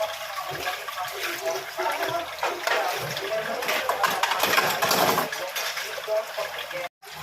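Dishes being rinsed under running water in a home kitchen, a steady broadband splashing and gushing that swells louder midway, with a brief cutoff near the end.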